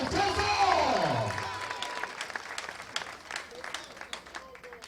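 Crowd applause and cheering at a political rally in Ntoum, busy clapping under an amplified voice that fades as the applause continues.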